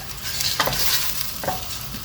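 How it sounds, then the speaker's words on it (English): Chopped onion frying in a pan as the base for a beef and turmeric soup, giving a steady close sizzle with a couple of brief stirring scrapes and no talk. "our whole chopped onion and get frying"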